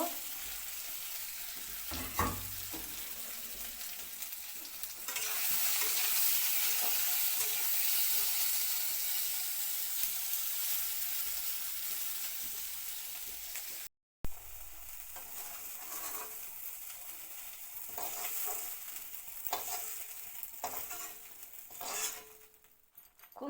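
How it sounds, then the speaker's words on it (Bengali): Soybean chunks frying in oil, a continuous crackling sizzle that swells louder partway through, with stirring scrapes and utensil clinks against the pan, no voices. "বাকি সয়াবিনগুলি দিয়ে দিলাম এইভাবে ভালো করে ভাজা ভাজা করা হইব"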